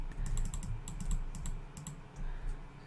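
Rapid computer mouse clicking while building in Minecraft, close bursts of quick sharp clicks in short clusters with brief pauses between, over a low steady background hum.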